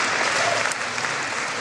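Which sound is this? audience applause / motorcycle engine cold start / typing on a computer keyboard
audience applause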